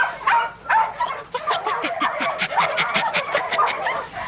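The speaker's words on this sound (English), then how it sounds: "I can hear him barking" A dog named Bluey barks out in an orchard, a fast run of sharp, fairly loud yaps repeating over several seconds with barely a pause between them.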